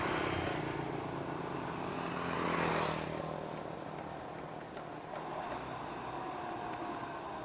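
Sugar cane lorry locomotive at PG Semboro rolling along rails, a continuous rumbling drone with rail noise that swells briefly before settling, moderately distant and steady.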